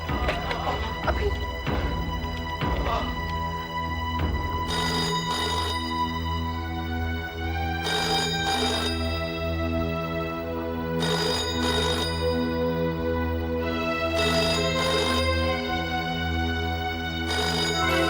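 A telephone rings in a Hindi TV serial scene, repeated electronic ring bursts in regular pairs with short gaps, fairly loud and alone over a steady background tone.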